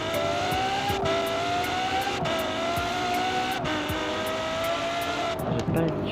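In Forza Horizon 4, a car's engine howls steadily while several abrupt downshifts break its pitch, with a faint tire squeal near the end. It plays loud and close, with no voices.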